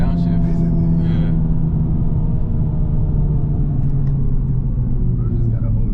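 Engine of a new Honda Civic Type R with automatic rev matching, heard from inside the cabin as a steady loud rumble with layered engine harmonics that shift slightly, with a brief rise early on during a paddle-shift downshift.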